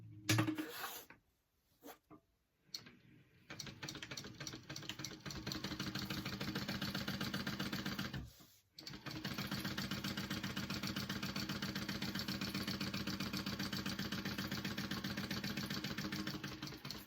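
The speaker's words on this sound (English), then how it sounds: "now I'm going to sew around my rectangle" Sewing machine running a shortened stitch around a canvas tote rectangle: a few brief starts, then a long steady mechanical whir with fast rhythmic needle chatter, a short pause, and another sustained run, close and alone.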